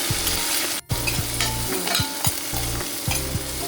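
Green chillies, onion, garlic and ginger sautéing in a pan for a Kerala-style chicken stew, loud continuous sizzling with rhythmic scraping strokes of a spoon throughout.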